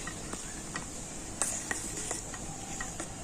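Soap base being stirred as it melts in a bowl set over hot water, a faint steady hiss with soft scrapes and light ticks of the spoon against the bowl, close and quiet throughout.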